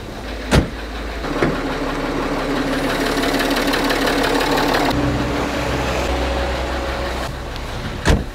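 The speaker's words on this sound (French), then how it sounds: "Il démarre super bien ce moteur." A Citroën C6 engine runs at idle with the hood open, a steady close mechanical hum with a faint ticking knock, broken by a few sharp clicks or thumps.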